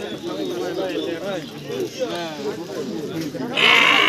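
Goats bleat repeatedly amid a busy goat market crowd at Nishiganj, overlapping with constant chatter, before a harsher burst of noise near the end.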